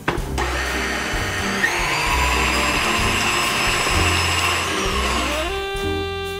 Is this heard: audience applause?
no